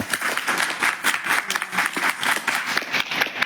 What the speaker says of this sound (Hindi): छात्र छात्राओं के नाम पे तालियों की दरकार।